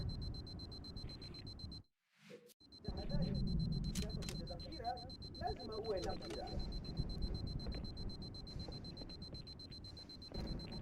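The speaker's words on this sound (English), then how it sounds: "Sorry about the beeping." A high, steady electronic beep tone repeats in a rapid regular pattern throughout, heard over game sound effects and voices, with a brief silent gap early on.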